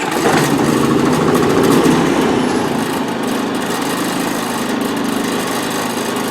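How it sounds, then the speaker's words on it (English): A Predator 3500 generator, started by wireless remote, runs as a loud, close, steady small-engine drone, louder in the first couple of seconds and then settling to an even idle, with no talking. "So in order to start the generator, you'd press button number 1."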